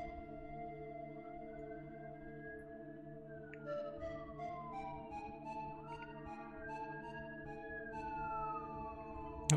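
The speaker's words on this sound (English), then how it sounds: "Oh, here are the police cars outside." Police car sirens wail outside an apartment above a freeway, rising and falling tones sounding moderately distant over a steady background of game music.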